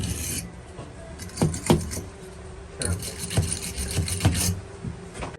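A brush scrubs corroded parts of a GE Hotpoint washing machine, with uneven scraping and rubbing strokes in short bursts, close and moderately loud.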